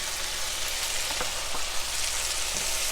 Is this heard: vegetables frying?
yes